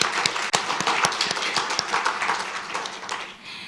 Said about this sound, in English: I would like to also request a big round of applause to all of us right now.